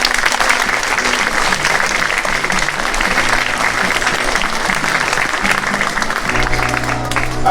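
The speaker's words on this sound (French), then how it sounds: "Si vous voulez les applaudir, s'il vous plaît." An audience at a parish end-of-year pastoral party applauds the cantors, a dense, continuous burst of clapping that stays loud throughout, with faint background tones and murmured voices.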